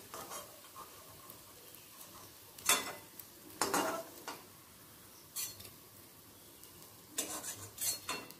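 Jute leaf fritters sizzle softly in a little hot oil, with several louder bursts of scraping and clinking as the fried fritters are turned and lifted out one by one.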